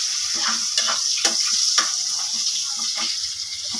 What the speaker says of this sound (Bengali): চলো পেঁয়াজটা ভেজে নিই